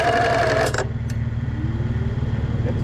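A Toyota Land Cruiser engine, stuck during an off-road recovery on a trail, revs briefly, then settles into a steady low throbbing rumble under easy throttle, close and continuous.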